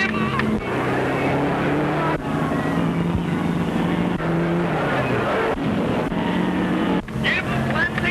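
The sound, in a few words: race car engine accelerating around track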